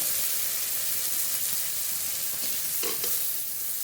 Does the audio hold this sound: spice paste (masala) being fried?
yes